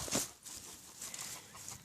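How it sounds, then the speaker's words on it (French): Hens cluck in a henhouse with a rooster nearby in a vegetable garden setting, soft scattered clucks at moderate distance with no talking. "Ah, il y a les poules. Et puis le coq là-bas."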